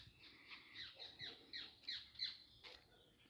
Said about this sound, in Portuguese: Ali tem um bem-te-vi e tem outro pássaro cantando.